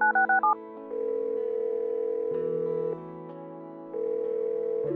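Telephone keypad tones in the Roblox game Brookhaven: a quick burst of four dial beeps, then a steady ringback tone that pulses on and off, with no voices.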